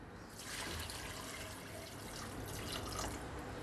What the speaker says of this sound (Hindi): इस हड्डी का हम बनाएंगे सूप, और इसमें डालेंगे हम 3 से 4 गिलास तकरीबन पानी